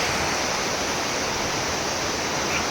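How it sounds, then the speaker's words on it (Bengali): Waterfall water pours down steadily beside a trail, a dense, even rushing wash that holds at constant loudness with no voices. "বয়ে যাচ্ছে ওয়াটারফলসের জলটা"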